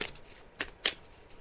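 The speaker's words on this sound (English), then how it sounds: "I'm just shuffling the cards now." Tarot cards being shuffled by hand: two crisp, quick riffling bursts about a quarter second apart, close and fairly quiet against a hushed room, with no voices.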